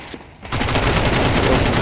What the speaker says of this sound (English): Salvos go out.